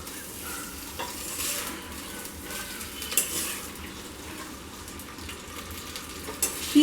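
Elephant foot yam fries in a pan over a high flame while being stirred, with a soft steady sizzle, occasional spoon scrapes and clinks against the pan, and a louder knock at the end, fairly quiet with no talk.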